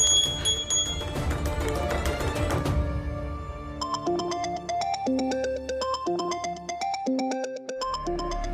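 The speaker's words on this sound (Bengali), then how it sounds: "ফোন করছে, তার মানে তারাকে খোঁজাখুঁজি শুরু হয়ে গেছে" A phone ringtone sounds for an incoming call, a bright repeating melodic tune that plays loud and close, with no talk over it.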